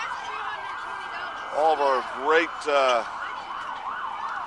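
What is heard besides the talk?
fire and EMS vehicle sirens at parade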